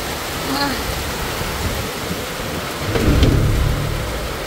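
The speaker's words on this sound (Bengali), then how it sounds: "এই দেখেন কত বৃষ্টি হইতেছে।" Loud, steady downpour with a deep rumble of thunder rolling in near the end.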